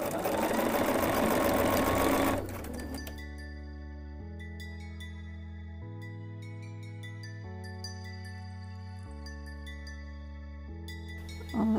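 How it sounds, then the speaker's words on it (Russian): A sewing machine stitches a seam along a folded clutch bag handle, running with a steady mechanical hum that changes pitch in stepped stages, after a loud burst of noise at the start. No talking is heard. "Складываю деталь ручки пополам и прокладываю строчку на расстоянии 1 сантиметр от края"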